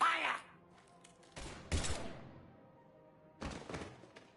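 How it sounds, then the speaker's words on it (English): Gunfire in the Mass Effect 3 video game comes as a quick sharp volley followed by two separate bursts of shots with quieter gaps between them. A voice is heard briefly at the very start. "Now open fire!"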